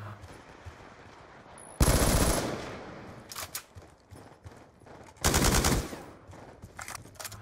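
Loud bursts of gunfire from sniper rifles in Black Ops 2 Gun Game, two heavy sustained volleys separated by quieter scattered shots and footsteps, close and dominant.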